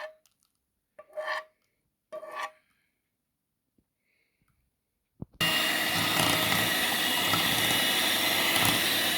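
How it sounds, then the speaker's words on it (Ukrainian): An electric mixer beats apple pie batter with a loud, continuous whirring drone that starts abruptly after a few short clinks and scrapes and then runs steadily. "І теж підбиваю міксером"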